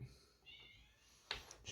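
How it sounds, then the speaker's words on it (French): A house cat squeaks and meows in a few short, high-pitched calls near the microphone, with a sharper cry toward the end, in a quiet indoor room. "Je suis désolé si vous entendez le chat"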